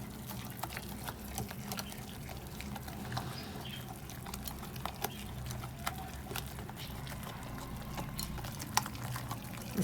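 Water being poured into a batter of gram flour (besan) for khandvi, a steady liquid patter with faint splashy ticks running continuously and fairly close, no voices.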